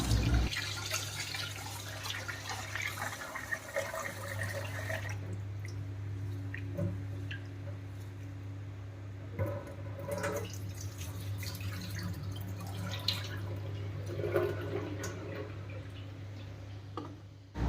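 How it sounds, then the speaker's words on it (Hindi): Arua rice grains are washed in water, with wet swishing, squishing and dripping sounds close by, intermittent and fairly quiet over a low steady hum, with no talking. "अरुआ चाउल को पानी में 2-3 थर धोईकी"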